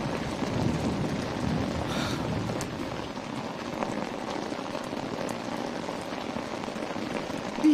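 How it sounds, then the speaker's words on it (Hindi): Heavy rain pours steadily onto surfaces in a dense, continuous hiss, with scattered louder drop hits and no voices for several seconds. "वहां से मत जाओ, बारिश बहुत तेज है।"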